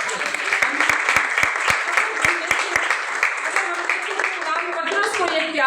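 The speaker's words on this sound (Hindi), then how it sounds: "और इस बात के लिए हम जोरदार तालियां बजा सकते हैं।" A crowd applauds steadily, with sharp rhythmic claps and low thumps punctuating it, and a voice emerges near the end.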